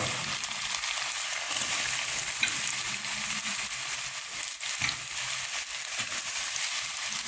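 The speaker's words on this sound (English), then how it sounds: "I'm going to add this into the pot, let it sizzle" Steady sizzling and crackling of tofu frying in hot oil in a pot with turmeric, continuous throughout with no talking.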